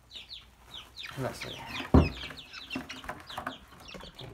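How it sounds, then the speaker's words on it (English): Lavender Orpington Easter Egger chicks in a brooder box, chirping and cheeping repeatedly up close with a sharp knock midway, while a person speaks briefly. "Lavender Orpington Easter Egger."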